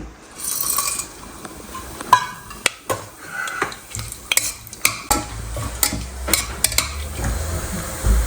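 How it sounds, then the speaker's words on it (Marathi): Whole garam masala and cumin seeds crackle and sizzle in hot oil for a masoor pulao tempering, a steady frying hiss broken by sharp spoon-against-pan clinks and stirring scrapes. "तर आता आपल्याला ही फोडणी करायची"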